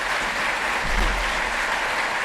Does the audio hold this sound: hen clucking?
no